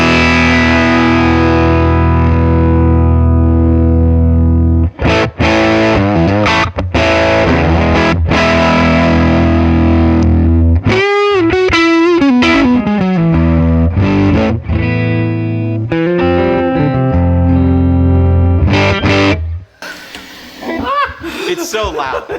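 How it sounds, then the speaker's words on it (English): A vintage combo guitar amplifier is played very loud with heavy distortion, giving thick sustained chords and sliding bends. One passage swoops with a warbling effect, and the final seconds are choppy. The playing runs alone with no talk. "It absolutely is a brilliant sounding amplifier, and one of the best ever made, probably."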